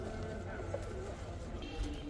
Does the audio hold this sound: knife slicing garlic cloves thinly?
no